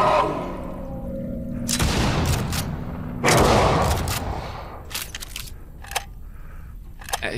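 Gunfire from the indie underwater horror game Chasmal Fear, with two loud sustained bursts of shots followed by scattered sharper single cracks, close and without talk.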